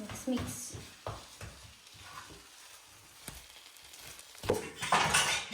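Spice masala mixture for dabeli being stirred in a pan, soft scraping strokes with a faint sizzle and a louder clatter toward the end, quiet, with a little speech in the background.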